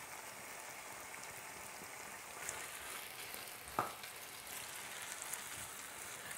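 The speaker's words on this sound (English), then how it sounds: "let the whole mixture fry for about 5 minutes" A steady, quiet sizzle of a chicken tikka masala spice mixture frying in a pan, with a couple of faint clinks, no voices.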